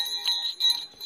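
A bright bell rings a few quick, clear strikes with sustained ringing tones over just about a second, close and moderately loud, with no talk.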